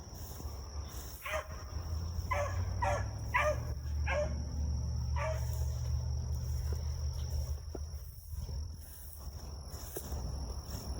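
A seven-year-old hunting dog bays while chasing cottontail rabbits in North Carolina, a series of yelping barks at moderate distance, spaced irregularly over steady insect chirring.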